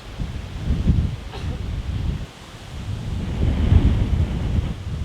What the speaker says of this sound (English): The wind shifts out here are pretty extraordinary.